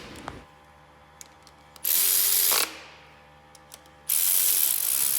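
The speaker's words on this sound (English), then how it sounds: "or a wrench, which is more preferred, to get those tightened down" Ratchet wrench clicking as it tightens intake manifold bolts on a small block Chevy, a few sparse clicks and then two long fast buzzing runs of the pawl, close and loud.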